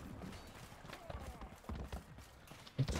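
Horse hooves clip-clopping in the medieval combat game Mordhau, a quiet, uneven patter of hoof strikes under French speech, with a sharper knock near the end.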